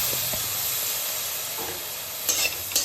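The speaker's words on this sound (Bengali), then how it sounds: "এবারে এগুলোকে একটু শুকনো খোলায় ভেজে নিতে হবে।" Whole spices, including cardamom, are dry roasted and stirred in a pan for mutton biryani, producing a steady dry hiss. A few scrapes and rattles rise near the end, close with no talk.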